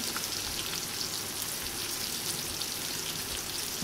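Chopped onion with green chillies fries in hot oil, giving a continuous crackling sizzle full of tiny spattering pops at moderate volume, with no talking.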